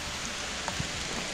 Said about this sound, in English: which has done started pouring down raining on me